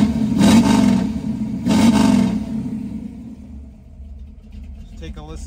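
A 1967 Chevrolet Camaro V8 is revved twice in quick succession, each deep roaring burst rising and falling back to a low idle rumble, close by, with a brief bit of talk near the end.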